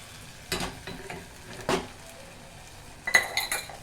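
A metal spoon stirs egg bhurji in a pan on the stove. A few distinct scraping clinks ring out close by over a faint background, with a quick cluster of strokes near the end.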